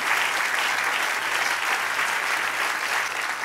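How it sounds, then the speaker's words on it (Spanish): Sustained, thick applause from a church congregation during a pastor's Spanish-language sermon, many hands clapping at once in an unbroken, even roar that eases slightly near the end. "Dale un aplauso, sí, bendícele."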